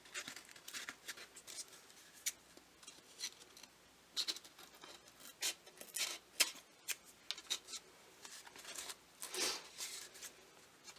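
Scissors snip and trim decorative hat material in quick, light cuts with brief pauses, faint and close, with rustling of the material between snips.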